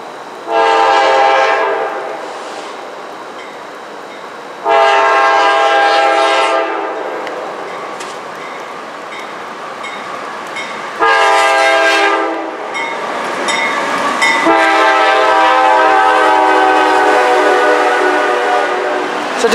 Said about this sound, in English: World's shortest train is just now passing through.